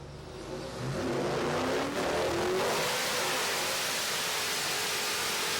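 A Hellcat's cammed 6.2-liter engine fitted with a Whipple 3-liter supercharger revs up and holds a loud, sustained roar with supercharger whine, rising sharply in the first second and then staying steady and close.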